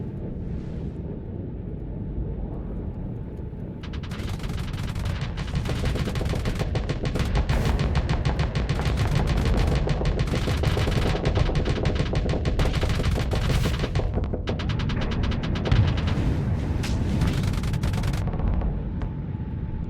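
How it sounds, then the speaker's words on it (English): Missiles and weapons fire in Starsector, the space combat game, roar in a dense, continuous barrage of rapid bursts and booms lasting throughout, loud and sustained with no talking. "So what I need to do is I need to use these missiles."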